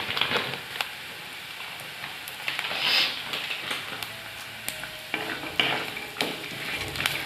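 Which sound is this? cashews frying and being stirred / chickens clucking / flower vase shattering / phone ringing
cashews frying and being stirred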